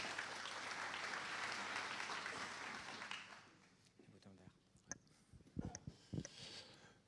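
Applause fills a conference hall at a Synology corporate event in Paris for about three seconds, then fades out and leaves quieter room noise with a few scattered clicks and knocks.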